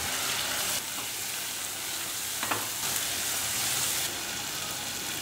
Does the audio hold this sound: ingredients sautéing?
yes